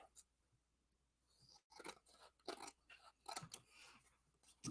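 Scissors snipping around the outside edge of a craft card, giving a series of short, irregular crisp cuts close up, with a brief pause early on.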